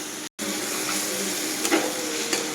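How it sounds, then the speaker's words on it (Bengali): Salted mash ingredients frying in a pan until golden, giving a steady, close sizzle and hiss that breaks off briefly near the start, with a few soft stirring knocks and no talking. "লবণটা দিয়ে এটা আমি একটু গোল্ডেন কালার করে ভেজে নেব"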